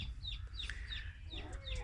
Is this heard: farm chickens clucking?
yes